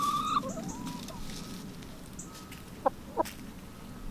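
Hens in a large, overgrown backyard chicken pen give a few soft clucks and two sharp, short calls close by, with a steady outdoor background and no voices.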